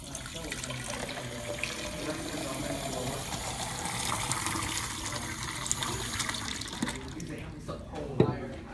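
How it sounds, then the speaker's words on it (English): Tap water runs steadily into a large laboratory beaker as it fills, a continuous close-up gush that holds for several seconds and then tapers off near the end. "We'll start by filling this big beaker with water."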